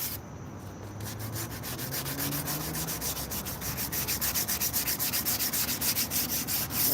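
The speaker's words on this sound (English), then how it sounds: "I'm sanding these rims down because it was leaking air on the bead" Sandpaper scrubs rust off the rims of a Dodge Ram truck wheel that leaks air at the bead, a steady rhythmic rasping of repeated back-and-forth strokes, close and fairly quiet.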